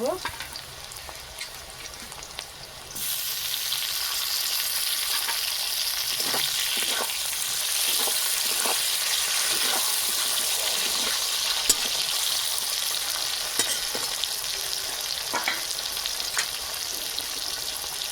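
Browned ingredients fry in a pan as chopped tomato is added, the sizzle jumping louder after a few seconds and then holding steady with scattered stirring scrapes, close up and without speech.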